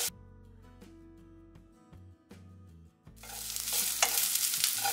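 Onion and capsicum sauté in a pan, starting with a few scrapes and knocks of a utensil over quiet music, then swelling into a loud, close, steady sizzle for the last couple of seconds.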